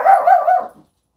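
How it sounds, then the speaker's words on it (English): A Chihuahua gives a quick run of three sharp, close barks that trail off into a short whimper, followed by silence. "That's his regular bark."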